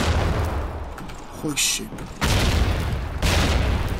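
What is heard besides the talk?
grenade explosions and gunfire in Call of Duty 2 video game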